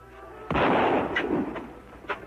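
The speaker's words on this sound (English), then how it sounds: "Who's shooting?" A single sharp gunshot in an old western town, fired near a barber shop, cracks out close and loud, followed by a couple of fainter distant pops.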